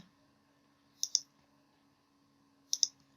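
Two quick pairs of sharp computer mouse clicks while drawing a 3D polyline in AutoCAD 2021, close and crisp over a quiet hum.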